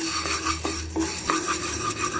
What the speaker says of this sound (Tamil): கொஞ்சமாக நெய் போட்டு பாசிப்பருப்பையும் வறுத்து எடுத்துக்கணும்